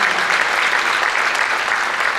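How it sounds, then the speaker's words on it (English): Audience applause at a fashion show: a dense, even wash of many hands clapping, loud and sustained throughout with no voices breaking through. "So let's just give her a round of applause for her"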